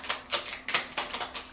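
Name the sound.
shuffling tarot cards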